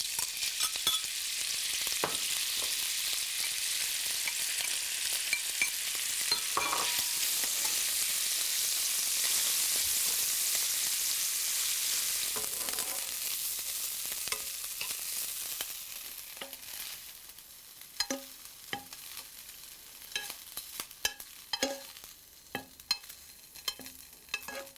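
Cubes of thick-cut wholemeal bread frying with dry-cured bacon in a pan, a loud continuous sizzle that fades midway, then scattered pops and crackles as the food is stirred, with no one talking.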